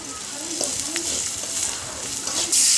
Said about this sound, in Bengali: রান্নার জন্য আমি প্রথমে মাছটি ভেজে নিলাম।